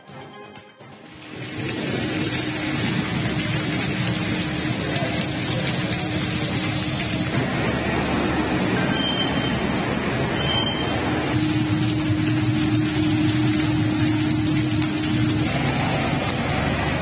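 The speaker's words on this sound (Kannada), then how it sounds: "ಉಜ್ಜಯಿನಿಯಲ್ಲಿ ಬಿಟ್ಟು ಬಿಡದೆ ಭಾರಿ ಮಳೆಯಾಗ್ತಾ ಇದೆ" Heavy, unbroken rain falls in Ujjain, a dense steady downpour that roars evenly for the whole stretch, with faint background rumbles and no voices.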